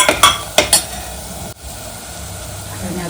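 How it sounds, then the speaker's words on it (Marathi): Masala sautéed with coriander powder in a pan for a chicken dish: a few sharp clanks of a spoon against the pan at the start, then a low steady sizzle continuing close by. "थोडीशी धना पावडर. ते मसाल्याला चांगलेसे परतून घेते"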